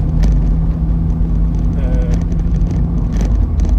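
Loud, steady engine rumble inside a 2003 Smart Roadster Brabus with a harsh ride, bumpy road noise and thumps on low-profile tyres, while someone talks over it.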